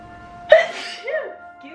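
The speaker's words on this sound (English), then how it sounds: "I have to sneeze." A single sharp sneeze bursts out close and loud, followed by a short trailing vocal sound, from someone building a Sims 4 eco retreat at a desk.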